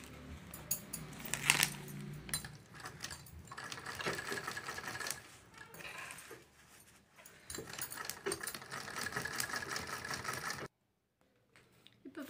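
A sewing machine stitches all the way around a cloth bangle cover in bursts of rapid mechanical clatter with brief pauses. It is close and fairly quiet and ends in near silence.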